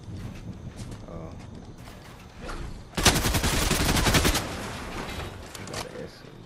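Gunfire in the video game Fortnite, a rapid burst of automatic shots rattling loudly for over a second, with scattered lighter shots before and after and a voice talking around it.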